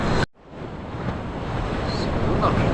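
Ocean surf at Uluwatu beach in Bali at high tide, a steady, loud wash of breaking waves close by with wind buffeting the microphone throughout, after a brief cut near the start.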